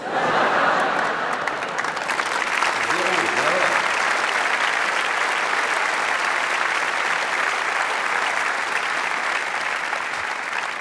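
A comedy show audience applauds steadily and densely for the whole stretch, with a few chuckles scattered through the clapping.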